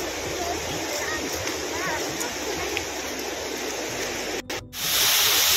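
The Bhagirathi Ganga flows beneath a bridge near Gangnani in Uttarakhand, a loud, steady roar of rushing river water that fills the scene throughout, with a brief dropout near the end.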